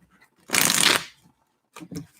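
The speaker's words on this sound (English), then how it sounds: "Final shuffle." Tarot cards being shuffled, one loud close riffle lasting about half a second, then a pause and a couple of softer card taps near the end.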